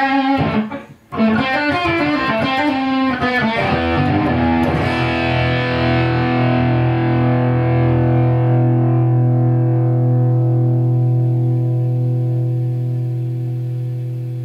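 An electric guitar played at full volume through a Phenyx Pro PTG-11 wireless system into an amp strikes a few distorted strums, then lets one chord ring and slowly fade out alone.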